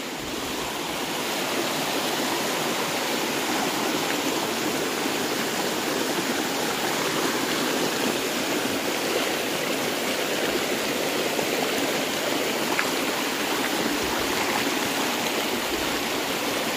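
A small mountain stream runs over stones, a steady close rush and trickle of water that holds even and unbroken from start to finish with no voices.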